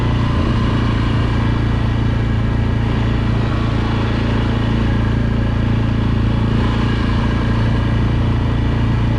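ATV engine running steadily and loud throughout while riding a trail near Johannesburg, Michigan, a continuous close drone with no pauses and no talk.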